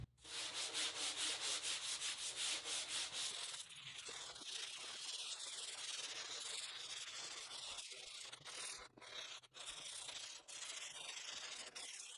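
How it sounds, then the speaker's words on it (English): Sandpaper rubs back and forth over a wooden foil SUP board in quick rasping strokes, loud at first, then a steadier scratchy sanding with brief pauses. "I'm just going to give this a good sanding just to knock off any like irregularities"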